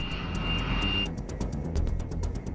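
An A-10 Warthog jet in flight gives a loud, steady engine roar with a high whine that cuts off partway through, leaving a broad rumbling drone and no talk.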